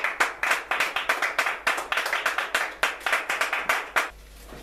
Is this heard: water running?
no